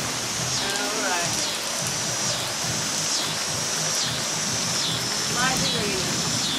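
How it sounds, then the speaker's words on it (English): Light rain falls steadily outdoors at around five o'clock on a cold day, a soft continuous patter and hiss, while people talk and call out over it with some brief exclamations. "It's raining slightly."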